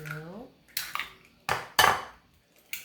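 Four eggs are cracked one after another against the rim of a bowl for mochi cupcake batter, each a sharp, close tap. A short voice is heard at the start.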